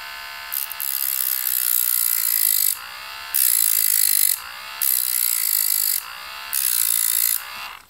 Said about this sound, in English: So I'm gonna go here and just take my little sander here